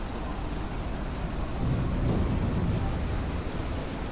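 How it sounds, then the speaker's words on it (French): Heavy rain pouring steadily with a low rumble of distant thunder building in the middle, a dense stormy ambience for a tabletop horror roleplaying game, with no voices. "La pluie bat à flot."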